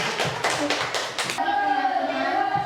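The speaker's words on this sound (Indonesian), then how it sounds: "Tepuk tangan untuk kelompoknya Tiara." A classroom of students claps for a student group, several quick rhythmic bursts of close hand claps over about a second, then giving way to someone speaking.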